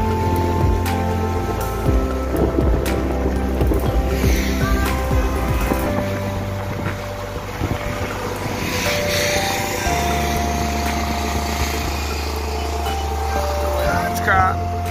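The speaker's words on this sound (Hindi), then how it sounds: "तेजी से पानी भाग रहा है" Fast-flowing floodwater of the Kudachi River on a morning, heard as a steady, loud, broad rushing roar that continues throughout, with tonal hum and voice-like sounds mixed over it.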